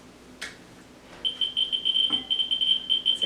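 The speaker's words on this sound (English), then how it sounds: "So you can hear all the beeping there from the counter." After a brief quiet moment, a Geiger counter held to uranium glass dishes starts beeping, high-pitched chirps coming rapidly and continuously, loud and close.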